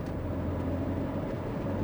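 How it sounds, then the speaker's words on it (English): A Ferrari 488 engine holds a steady, smooth low drone from inside the moving car, with no break across the short stretch. "I love the sound this motor makes too."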